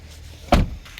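Hood latch on a Corvette C7 Stingray released with a single short, sharp clunk midway, followed by a faint thud from the hood, otherwise quiet.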